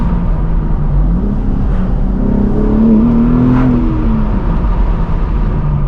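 A BMW M4 G82 with a manual gearbox sounds loud and close from inside the cabin, its high-pitched engine note rising and falling steadily over a constant rumble of road noise.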